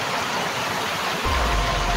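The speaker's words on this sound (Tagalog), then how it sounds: "Grabe yung ulan dito." Heavy rain pours steadily as a broad, dense wash of noise with no talk, and a deeper rumbling surge joins partway through as the downpour grows heavier.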